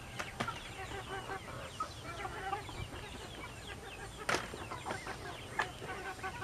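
Meat chickens cluck and chatter continuously over freshly spread feed on a farm, a busy close chorus of short calls with a few sharper squawks standing out, and no talk.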